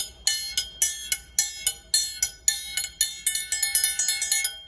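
A bright metallic ringing of a triangle struck with a beater in a steady pulse, several hits with a sustained shimmer, getting quicker and denser toward the end.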